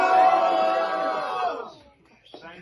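A large crowd cheers for President Trump with loud, sustained whoops and yelling that swell early and then fade out within a couple of seconds, leaving near quiet before a brief stir of noise.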